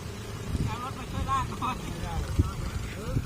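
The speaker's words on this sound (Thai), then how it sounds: "รถไถกำลังมา" A farm tractor approaches along a rural road near a canal, its low engine rumble steady beneath speech and wind noise throughout the short stretch.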